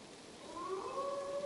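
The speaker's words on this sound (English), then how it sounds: "Oh, that is not the sound of a dog, Ira. That is a wolf." A lone wolf howl in the video game Assassin's Creed Valhalla, a short rising tonal wail over a faint background hiss, moderately distant and soft, no speech.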